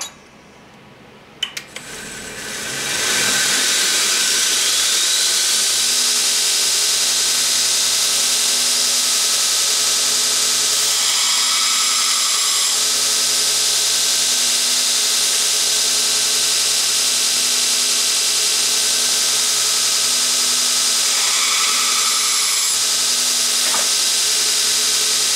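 A blade's bevel ground on a bench grinder, a loud steady high whine of the wheel against steel that holds unbroken after a brief start-up, with a faint hum beneath.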